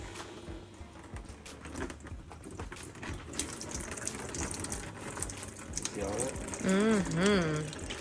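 Coolant drains out of an Audi engine in a continuous splashing flow, nearby and moderately loud, while voices talk over it and a brief tonal sound rises near the end.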